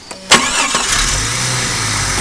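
A hot Jeep Cherokee engine cranks with a short burst, catches, and settles into a steady, close idle rumble that continues to the end with no talking.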